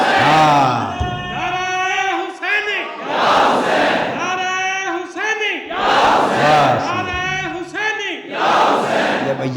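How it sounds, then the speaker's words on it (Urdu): Large crowd at a religious gathering chanting the slogan Ya Hussain in loud, repeated rhythmic bursts of massed voices, with pauses between each call. "اور نعرے میں کہا کرو یا حسین"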